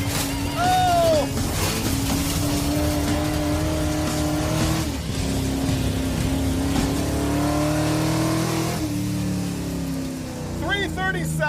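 A Hemi-powered 1955 Chevy Bel Air is raced hard. Its engine revs and roars loudly and steadily up through the gears, with brief tire noise, and excited voices can be heard over it.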